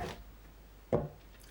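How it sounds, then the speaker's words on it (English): A Cima M831 knife striking a chopping block, two separate sharp woody chops with a quiet gap between them, close and isolated against faint background. "chopping block going."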